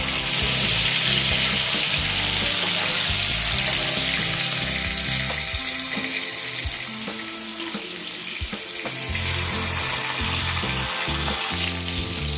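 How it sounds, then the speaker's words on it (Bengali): Bhetki fish fillets frying in hot oil in a pan, a steady broadband sizzle with crackling spatters that runs continuously and fairly loud throughout, with no voices. "একদিকটা একটু ভাজা হয়ে গেলে তারপর আমি উল্টে দেব।"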